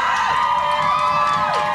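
Crowd cheering and shouting outside a studio window, a dense, steady wash of many voices with tonal whoops and music-like harmonics, loud and continuous.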